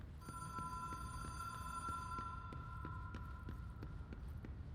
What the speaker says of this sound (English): is a phone ringing